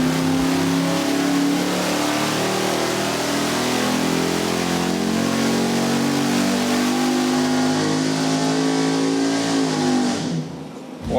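A car engine on a dynamometer sweeps steadily from 3,500 to 6,500 rpm, its loud, rising mid-pitched roar building continuously for about ten seconds before abruptly cutting off.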